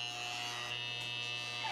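An electric hair clipper buzzes steadily and fairly faintly during an undercut, a continuous close hum lasting under two seconds with no break.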